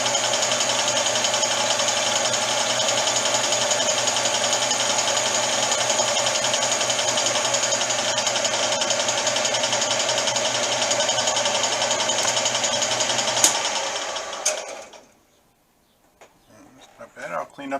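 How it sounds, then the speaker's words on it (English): A lathe takes slow feed finishing cuts on an aluminum knob, giving a steady close whine and hum that holds for most of the time, then winds down into near silence. "Taking some slow feed cuts off there to get a nice finish"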